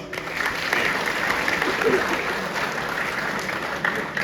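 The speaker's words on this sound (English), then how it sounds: "Let's give a round of applause." An audience at a college leadership summit gives a steady round of applause, a dense even wash of many hands clapping at moderate volume throughout.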